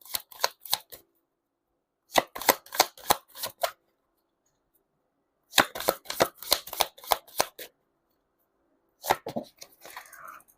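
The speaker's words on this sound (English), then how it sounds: "Now let's actually pull up some Chinese fortune cards." Chinese fortune cards shuffled in several quick bursts of crisp, rapid riffling clicks, close and fairly quiet, with silent pauses between the bursts.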